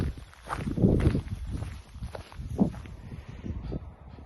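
Footsteps crunching on the ground outdoors on Te Mata Peak, three weeks after Cyclone Gabrielle. A steady walking rhythm of soft, uneven steps comes with wind and faint rustling in the background.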